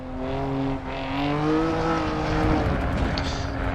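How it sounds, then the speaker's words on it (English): BMW M car with four exhaust pipes, heard from outside in the Assetto Corsa Evo racing game, giving a steady raspy engine drone with a slowly rising pitch, loud and continuous with no talk over it. "typical BMW sort of rasp off the exhaust with the 4 pipes at the back"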